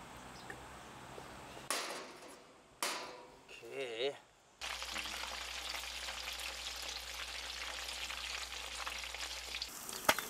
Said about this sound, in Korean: 이제 2차 튀기는 거야.